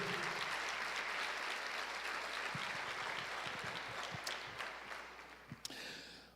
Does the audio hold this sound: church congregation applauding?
yes